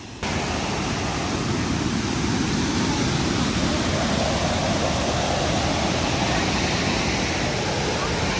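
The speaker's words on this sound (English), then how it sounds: "So far it's just very dark waterfall, and then it sounds like it must be right here." A waterfall roars steadily in a dark canyon, a dense, constant rush of falling water that stays loud and unbroken throughout.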